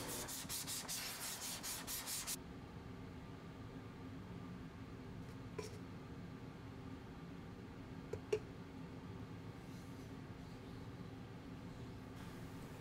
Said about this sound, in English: So I'm gonna continue lapping these billets.